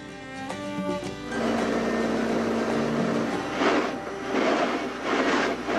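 A boat engine drones on Lake Como near Bellagio, starting with a humming tonal whine that settles into a steady, fairly loud rumble mixed with rushing water noise.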